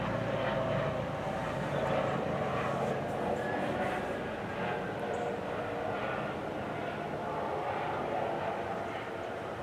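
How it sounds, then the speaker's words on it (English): A steady engine drone of a helicopter passing nearby overhead fills the whole stretch, loud and continuous with a faint throbbing. "We let the helicopter get by."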